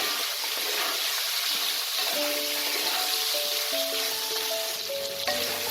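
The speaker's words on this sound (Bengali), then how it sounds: "আলু আর কুমড়োটাকে আমি বেশ কিছুক্ষণ তেলে ভালো করে ভেজে নিয়েছি" Potato and pumpkin pieces frying in oil give a steady low sizzling hiss throughout, fairly faint, with some tonal kitchen background noise underneath.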